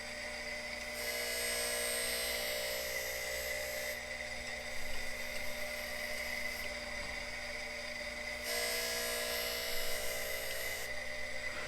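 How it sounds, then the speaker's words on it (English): The spindle of a Harig Super 612 surface grinder runs steadily in a quiet shop with a continuous high whine. Two stretches grow louder and brighter before falling back to the same even hum. "The old spindle's a little noisier than I remembered."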